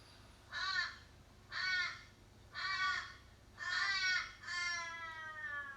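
Crows caw outdoors, five harsh calls spaced about a second apart, clear and fairly close against a quiet background.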